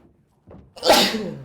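A single sharp sneeze up close, a brief soft intake followed by a loud burst, during a quiet moment of a gaming session.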